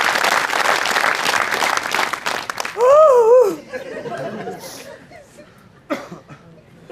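Studio audience at a comedy show claps loudly in a dense, steady burst for almost three seconds, then the applause fades into scattered chatter and a voice.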